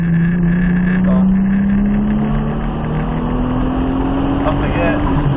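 A Nissan Skyline R34 GTR on a track, its engine droning loud and steady while the pitch climbs smoothly under acceleration, with constant road and wind roar around it.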